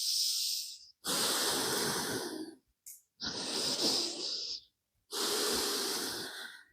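Dynamic breathing during a yoga lunge: three strong, hissing breaths taken close up, each lasting about a second or more, with short pauses between them.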